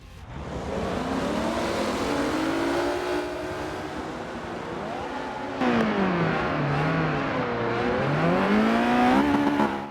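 Race cars in a Forza game accelerate off the start line at Monza, Lotus Elise and Audi RS4 among them, engines revving loudly and climbing through gears in a dense, sustained roar with a gear change midway.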